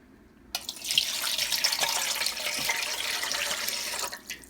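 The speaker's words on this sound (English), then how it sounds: "I am going to add some water here," Fresh, clean water runs steadily into a bowl of flowers being readied for a spiritual bath, a continuous close splashing and trickling that starts abruptly and fades out at the end.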